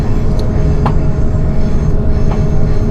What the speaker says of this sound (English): that was the first train ride